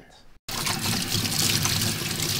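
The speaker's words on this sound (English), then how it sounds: "now, I gotta wash my hands." Kitchen tap water runs steadily while hands are washed during cooking, a close, continuous splashing stream that begins abruptly after a brief moment of silence.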